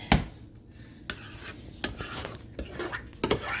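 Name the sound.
hamburger mixture being dumped into a casserole dish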